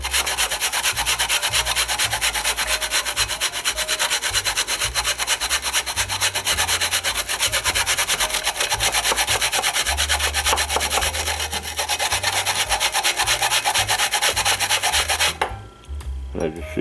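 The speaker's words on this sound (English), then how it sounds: "we're going to grate our watermelon" Frozen watermelon rasped against a grater in long continuous strokes, a loud close scraping rub that stays steady before cutting off near the end.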